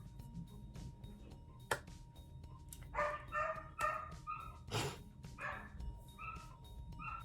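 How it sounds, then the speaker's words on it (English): Dogs bark in short clustered bursts, a handful of yips and woofs spaced irregularly, fairly distant and quiet over low background rumble. "dogs barking"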